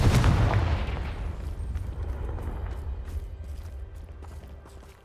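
A Confringo blasting spell explodes in Hogwarts Legacy near a Thestral nest, a loud close boom with a deep rumbling tail that decays over several seconds, followed by faint creaks and distant crackles.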